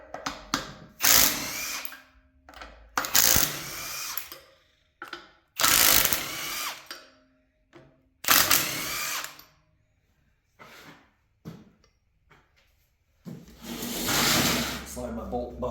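Socket wrench ratcheting 5/16 bolts out of a huge electric motor being scrapped, in several separate bursts of clicking with pauses between, fairly close; someone talks in the gaps.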